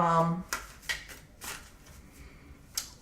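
Tarot cards being shuffled and drawn from the deck, giving several crisp, separate card slaps and swishes close by at uneven intervals, with a brief voice at the start.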